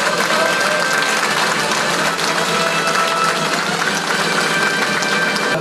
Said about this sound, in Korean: 박수와 함께 시작하겠습니다